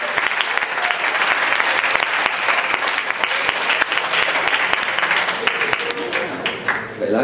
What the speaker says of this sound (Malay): berikanlah tepukan sedikit Pak Gubernur